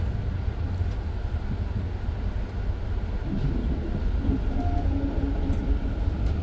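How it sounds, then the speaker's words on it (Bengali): The Bandhan Express passenger train between Khulna and Kolkata running at speed on rails, a continuous close rumble of wheels and carriages with wind buffeting, steady and loud throughout, no talk. "সেঞ্চুরির গতি নিয়ে ছুটে চলেছে বন্ধন এক্সপ্রেস কলকাতার পথে"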